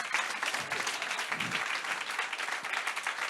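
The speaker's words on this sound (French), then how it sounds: "On applaudit bien fort Lionel." An audience at a tourism gathering applauds a presenter, a dense, even wash of clapping from many hands filling the whole moment at moderate loudness.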